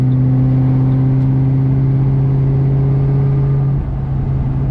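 A car engine hums steadily with a low droning tone from inside a GT500 with an upgraded TR6060 manual gearbox, accelerating to 70 mph, pitch holding then dropping slightly as it shifts near the end.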